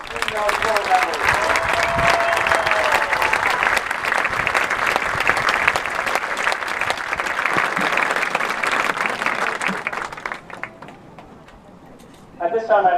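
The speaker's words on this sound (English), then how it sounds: "Big round of applause for all of our senior auxiliary members." Loud, sustained clapping and cheering from a large crowd at a pie festival, steady for about ten seconds before thinning out, with a brief swell again at the end.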